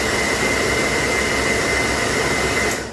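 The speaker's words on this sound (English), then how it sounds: "This blower is going to run a little bit louder because I have it on a floating power supply." A blower fan running on a floating power supply, at about 19 volts and dropping toward 18.7 when it starts, gives a loud, steady broadband whoosh with a faint whine. It holds constant for nearly three seconds, then cuts off abruptly.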